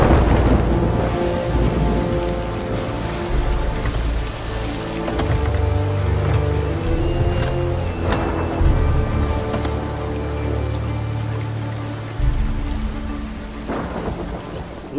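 Heavy rain pours down steadily through a thunderstorm, with loud rolling thunder booming and rumbling several times over the constant hiss of the downpour.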